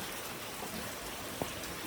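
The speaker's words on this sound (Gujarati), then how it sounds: "અત્યારે પાછું આ બાજુ પવન છે ને વાછટ આવે" Rain falls with wind-blown spray, a faint, even hiss throughout with one small tap near the end, and no voices.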